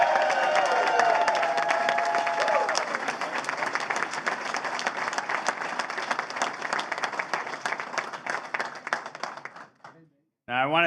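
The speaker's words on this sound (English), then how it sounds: "So please give my team a big round of applause." An audience at a campaign victory night applauds the candidate's team, dense sustained clapping with some cheering that tapers off near the end before a brief voice returns.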